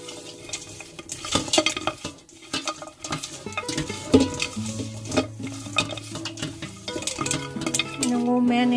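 Goat meat being stirred by hand in a bowl of marinade with five spice powder, wet squelching and clinking strokes repeating close up, with a faint tonal background hum.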